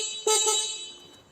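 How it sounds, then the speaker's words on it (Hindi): A short horn beep from an Okla Omo electric scooter, one bright electronic tone that starts sharply, holds for about a second and then fades, close and fairly loud with no talking. "हॉर्न टेस्ट कर लेते हैं कि इसकी कितनी आवाज़ है।"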